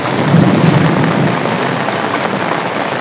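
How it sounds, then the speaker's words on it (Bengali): Rain falls steadily and loudly during a flood-season downpour, with a low thunder rumble rolling beneath the dense hiss of drops, continuous throughout with no voices. "মেঘও ডাকতেছে"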